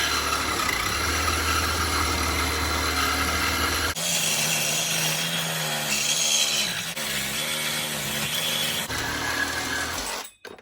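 A Lidl multi-tool saws through steel box section with cutting oil, a steady loud rasping buzz of the reciprocating blade that shifts pitch as it bites, running continuously before stopping abruptly at the end.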